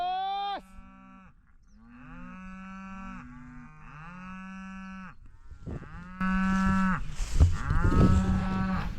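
Cattle being worked on a farm moo repeatedly, long drawn-out calls overlapping one another at close to moderate distance. Scuffling and handling noise grows louder in the second half.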